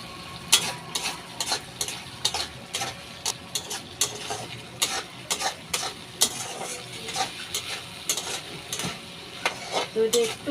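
Chopped tomato fries in hot oil under a steady sizzle, with frequent irregular spoon scrapes and clacks against the pan, close and moderately loud throughout.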